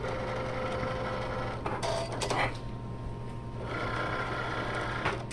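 A Cricut cutting machine works through glitter vinyl in fast mode, a steady mechanical whir and hum with shifting motor tones and brief clicks as the carriage moves, close and continuous with no speech.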